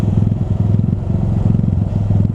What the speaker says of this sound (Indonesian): Ini motor kalau udah lama nggak dihidupin harus dimainin terus gasnya